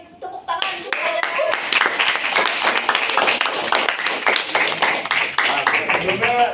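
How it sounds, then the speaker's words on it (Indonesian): An audience claps after a group presentation on Islamic marketing management, a steady burst of many hands applauding close by that lasts several seconds. "Boleh beri tepuk tangan untuk ada."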